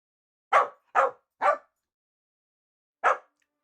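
A small dog barks three times in quick succession, then once more after a pause, each yap sharp and fairly close, with silence in between.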